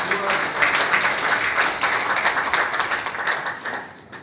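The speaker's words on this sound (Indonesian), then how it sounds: "tepuk tangan beliau-beliau." Council members and attendees at a plenary session of the DPRD Cilacap regional council applaud together, a dense, even clapping that swells briefly and then tapers off toward the end.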